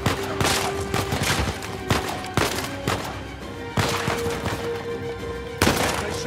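Gunfire in the video game Uncharted 4, a rapid fusillade of shots with sharp bursts punctuating continuous firing, loud and close, with no talking over it.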